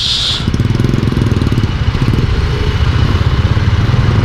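A motorcycle engine putters close by as the bike rides through a flooded street, with rapid, steady, loud firing pulses and some clatter. It stays close throughout.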